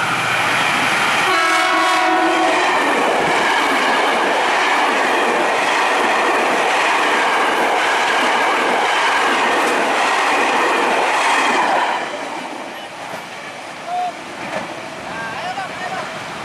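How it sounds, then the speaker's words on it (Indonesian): A train, F6123 bound for Duri, passes the Rawa Buaya level crossing with a loud sustained roar, rattling wheels and a brief horn near the start, then fades to quieter road noise. A person speaks over it. "Oh, ada kereta lewat."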